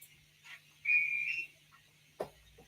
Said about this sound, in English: That was a bubble car's whistle because I haven't got the whistle on this one.